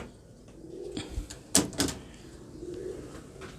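Pigeons from a golden-colored breeder pair coo softly in low, breathy murmurs, with a couple of sharp knocks or wing flaps in the middle of the quiet scene.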